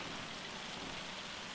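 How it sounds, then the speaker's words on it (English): Continuous game rain from Farming Simulator 25 falls in a dense, steady hiss with faint low rumbling beneath, constant and uninterrupted with nobody speaking. "but yet somehow it is raining."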